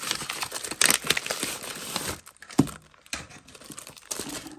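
Taped packaging on a paper-goods advent box being cut and torn: close crinkling, scratchy slicing and rustling in uneven bursts, with brief quiet gaps.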